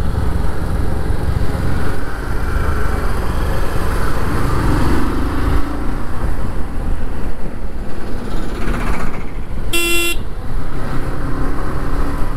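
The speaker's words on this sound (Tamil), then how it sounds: "ஃபுல்லு டிராஃபிக்கு" Heavy traffic crawls along the road up Nandi Hills near Bangalore: a loud, steady rumble of engines close by, with a short car horn toot near the end and no talk.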